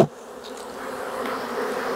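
Honeybees hum steadily around an opened hive box after almond pollination, a continuous close buzz that holds evenly throughout after a brief knock at the start.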